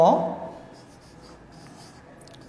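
Handwriting for a class lesson on business organization, a list written out by hand: soft, faint scratching strokes after a louder burst at the start, continuing quietly with no talk.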